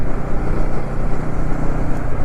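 Steady road traffic on a cold night near Ambernath West, a continuous loud rumble of passing cars and engines close by, with no talk.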